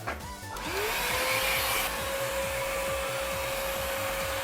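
Iris Ohyama rinser cleaner running while vacuuming a dirty ceiling: a loud, steady motor whine and rushing airflow that starts up and then holds constant, with no talk.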